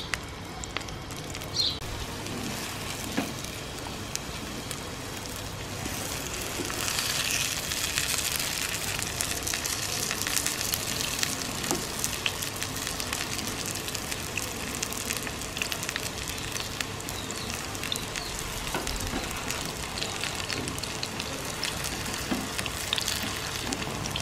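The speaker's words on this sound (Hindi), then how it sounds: "जितने फ्राइंग पैन में कबाब आते हैं उतने डाल के हमने इसको फ्राई करना है" Tamarind potato kebabs with no breadcrumb coating shallow-fry in a little oil in a frying pan, giving a soft, steady sizzle with scattered small pops that carries on for a long stretch with no talking.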